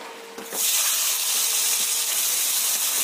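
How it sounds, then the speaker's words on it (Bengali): Amudi fish coated in salt and turmeric hits hot mustard oil and sets off a loud, close, steady sizzling hiss that continues to the end. "এবার নুন হলুদ মাখিয়ে রাখা মাছটা দিয়ে দেব ভাজার জন্য"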